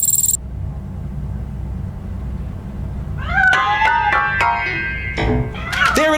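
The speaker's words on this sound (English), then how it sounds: "That cat must be hiding inside." Several plaintive cat meows from a cat hidden in a piano in the video game RoboCop: Rogue City, rising and falling cries heard close and clear over a low steady in-game rumble, with a short bright tone at the start.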